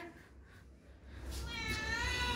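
A cat meows near the end, a drawn-out, rising call over low background noise.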